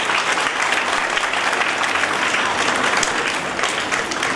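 At a school Independence Day celebration, a crowd applauds performers with loud, dense, continuous clapping that holds steady for about four seconds.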